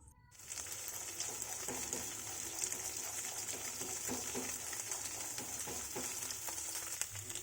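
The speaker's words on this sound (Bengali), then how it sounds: "এইবার ডিমটা ভালো করে আমি ভেজে নিচ্ছি" An egg fries in a pan alongside peas and cauliflower, a soft continuous sizzle starting after a brief quiet moment, with small scraping and stirring clicks scattered through.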